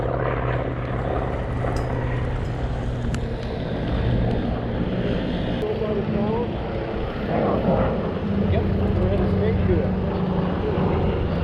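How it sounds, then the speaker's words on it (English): An A-10 Warthog and an A-1 Skyraider fly in formation at the Oshkosh 2019 airshow, their steady propeller and jet engine drone continuous and fairly loud, with crowd chatter and talk underneath. "there's an A-10 Warthog and an A-1 Skyraider"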